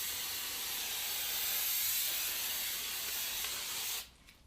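A steady, continuous aerosol hiss of hairspray being sprayed for about four seconds, close and fairly loud, then it stops abruptly.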